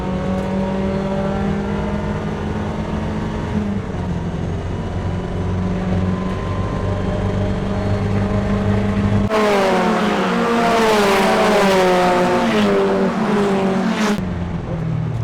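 Race cars in a racing video game accelerate and overtake, engines whining through rising and falling gear shifts, with a second car's engine joining loudly partway through; no talk is heard.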